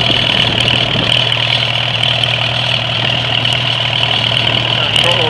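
Cold-started 1945 Farmall A tractor engine idling steadily, loud and close, with a constant low rumble and a bright mechanical whine that stay unbroken throughout.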